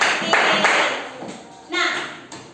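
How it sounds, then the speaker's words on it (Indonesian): Schoolchildren in a classroom clap for their classmates in short, scattered bursts, some near and some farther off, while children's voices chatter throughout. "Coba tepuk tangannya untuk temannya."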